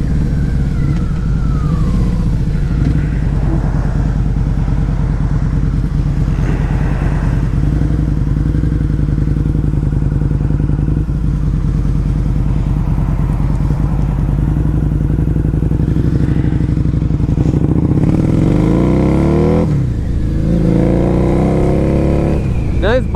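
A 2003 Harley-Davidson V-Rod motorcycle engine drones loudly and continuously while being ridden, rising and falling with the throttle, with rushing wind noise throughout.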